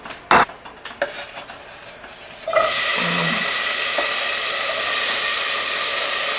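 Oil goes into a pan of freshly chopped tomato, green pepper and red onion: a few clinks and taps of utensils, then a sudden steady, loud hiss and sizzle that holds to the end.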